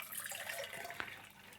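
A rhubarb and rose Collins cocktail made with rose syrup is strained out of a three-piece shaker with the lid on, a quiet thin trickle of liquid pouring with faint splashes.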